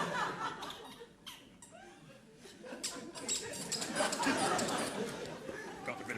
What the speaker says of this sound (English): got a bit of a squeaky chair.